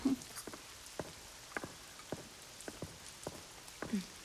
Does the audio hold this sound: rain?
yes